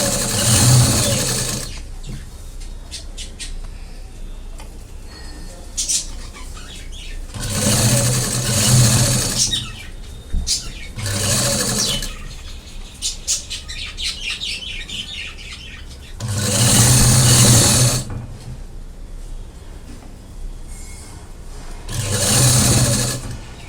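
A sewing machine stitches piping onto a blouse in loud running bursts of a few seconds each, separated by quieter pauses with faint handling noise and birds chirping in the background.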